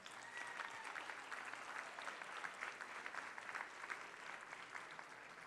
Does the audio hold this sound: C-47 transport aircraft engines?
no